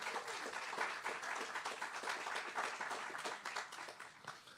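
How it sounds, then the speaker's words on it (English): A crowd applauds Leslie Smallwood of Mosaic Development Partners at the Sharswood Ridge housing groundbreaking, with steady moderate clapping that slowly thins toward the end, heard from a slight distance. "Let's give her a round of applause."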